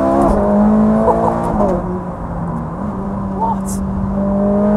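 Ferrari 430 Scuderia V8 at wide open throttle, a steady loud engine drone with rising harmonic sweeps through the run, heard from inside the cabin with a brief voice over it.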